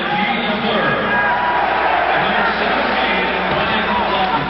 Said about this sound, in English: another great cheer for Guy Lafleur as they announce his assist on the goal by McKegney